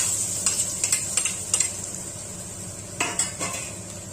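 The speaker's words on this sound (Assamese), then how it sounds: "এতিয়া এই তেলতে সৰুকৈ কুটি লোৱা আলু" Small-diced potatoes frying in hot oil over a high flame, a steady close sizzle broken by several sharp clinks and scrapes of a utensil against the pan.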